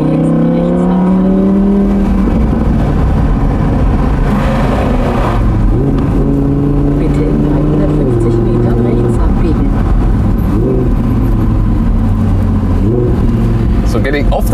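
An Audi R8 Spyder V10 with 540 hp, a 2017 model, leaving the motorway on an exit. The engine note is loud and steady and shifts pitch through gear changes, with talk running over it.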